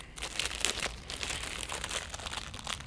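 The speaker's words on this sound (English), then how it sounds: "let's open up this packaging" Plastic packaging around a Pinlock anti-fog insert is torn and opened, giving close, busy crinkling and crunching with brief tearing rips, irregular and continuous throughout.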